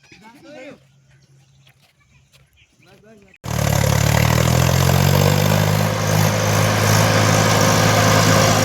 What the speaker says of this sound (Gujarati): અમારા તબલાનું ટ્રેક્ટર આવી રહ્યું છે